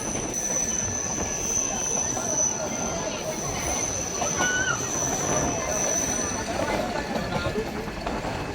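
The Ooty to Coonoor toy train rolls along in a dense, continuous rumble, with wheels squealing against the rails and a faint clatter underneath, heard up close from on board.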